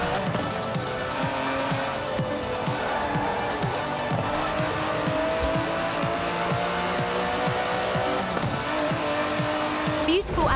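Aston Martin DB11 racing in Forza Horizon 4, its engine revving up and down continuously with repeated gear shifts and bursts of tire squeal, close and loud throughout.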